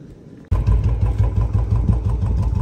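A Royal Enfield Bullet motorcycle in a Punjab village bursts into a loud, close, thumping idle after a short quiet moment, its steady beat continuing to the end without speech.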